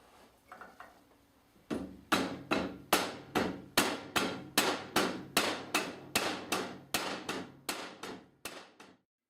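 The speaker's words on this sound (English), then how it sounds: "you've now drifted your homemade pin in" Homemade dowel pin being hammered into a Yamaha XJ600 Diversion engine casing, about fifteen sharp metallic blows at a steady, even rhythm, close and loud, then a sudden stop.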